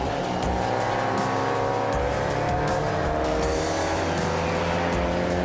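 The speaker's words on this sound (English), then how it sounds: "Falconer in his New Jersey-built Ford Mustang is racing past some of the slower cars on his way towards the finish line" A New Jersey-built Ford Mustang races past slower cars on a circuit near the finish, its engine roaring loud and steady the whole time with faint tire noise.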